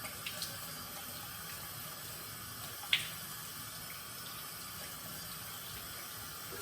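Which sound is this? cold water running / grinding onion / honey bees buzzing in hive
cold water running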